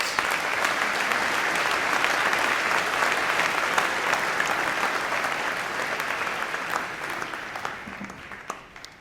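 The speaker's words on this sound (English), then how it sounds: "the warmest round of applause for our collective staff who make this school great" A school speech night audience gives its staff a warm, sustained round of applause, a dense even wash of clapping that slowly thins toward the end with a few last scattered claps.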